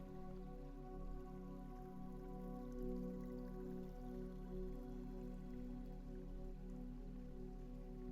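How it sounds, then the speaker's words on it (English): Rain falls steadily onto dark water, a close, even wash of tiny splashes and drips holding at one level throughout, with nobody speaking. "The rain softens slightly now."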